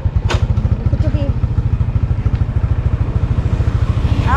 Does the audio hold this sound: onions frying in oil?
no